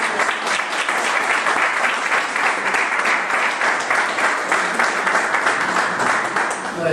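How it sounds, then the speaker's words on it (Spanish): A conference audience applauds to welcome a speaker, with dense, sustained clapping that stays loud and steady from start to finish. "Así que recibimos con un aplauso a Alejandro."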